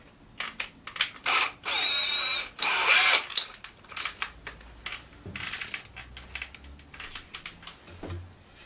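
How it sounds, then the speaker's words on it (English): A drill bores through material with a drill bit to widen a hole while building a gymnastics bar, sounding in a few loud, sustained whining bursts separated by clattering handling noises and pauses. "I'm going to go ahead and widen up this hole a little bit on the side. So use this drill bit here."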